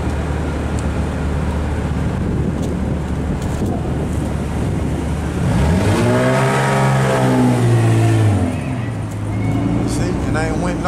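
Car engine revving through a loud aftermarket exhaust pipe as it passes by outdoors, a rising and falling roar swelling in the middle over steady wind noise, with someone talking.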